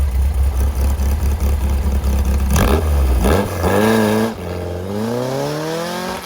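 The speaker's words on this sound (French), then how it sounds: "Passage avec la valve ouverte." A Volkswagen Beetle with a 2.2-litre engine rumbles loudly, then barks and revs sharply as it passes close with its exhaust valve open, its pitch sliding up through gears with a raspy, throaty exhaust.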